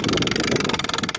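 A hand winch cranked to raise a telescopic bat house pole on a 6x6 post, giving a fast, steady ratcheting clatter of evenly spaced clicks, close and loud.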